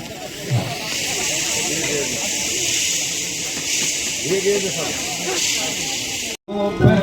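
Ghee is poured onto a sacrificial fire at a Gayatri mahayagya ritual, producing a steady, loud hiss that runs throughout while voices talk faintly underneath, before the sound cuts briefly near the end.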